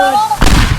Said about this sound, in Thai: รู้สึกว่าระเบิด